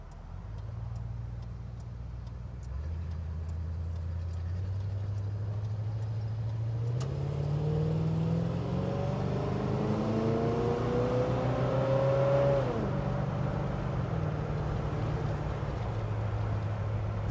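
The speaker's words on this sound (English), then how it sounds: "The engine sound is so sweet." A Chevy Caprice Classic Convertible barn find with its engine running, a steady low idle that rises as it is revved, holding a higher pitch before dropping back to idle, with a faint ticking in the background.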